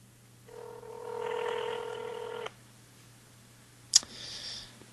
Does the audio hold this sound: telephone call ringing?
yes